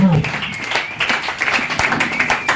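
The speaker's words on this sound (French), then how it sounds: "Acclame bien pour Jésus." A church congregation applauds for Jesus, a dense burst of clapping with voices mixed in, loud and close throughout.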